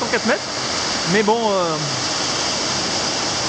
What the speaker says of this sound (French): il y a un petit passage, une petite cascade d'à peine 3 mètres